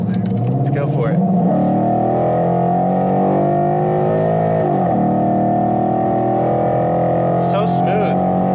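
A modified 2011 Mustang GT 5.0 V8 accelerates hard, its throaty engine note rising steadily in pitch from inside the car, loud and continuous, with voices talking over it.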